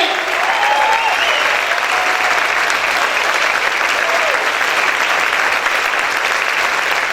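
A congregation at a church service keeps up vigorous applause for several seconds, an even, dense clatter of many palms, with a few brief cries rising faintly above the crowd.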